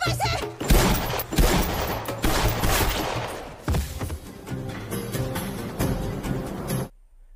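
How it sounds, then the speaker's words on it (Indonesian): Gunfire in a film scene: a sustained fusillade of repeated shots with booming thuds and scattered impacts, loud and continuous for several seconds before cutting to silence. "Joti pun langsung saja menembaknya berkali-kali hingga terkapar di tanah"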